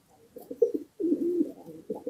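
A pigeon coos up close in a few soft, throaty bursts, one longer rolling coo in the middle, with a quiet background.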